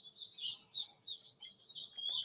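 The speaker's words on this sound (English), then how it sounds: "As you can hear, the birds have got up to be a part of Coffee Club this morning" Small birds chirp and tweet continuously in the distance in the morning, light high-pitched calls overlapping softly in a quiet outdoor setting.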